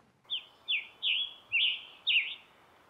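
A bird sings five short, evenly spaced whistled notes, each a quick falling phrase, clear and fairly close against quiet background, as heard while birding with audio playback.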